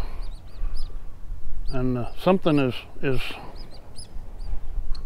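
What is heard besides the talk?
gulls calling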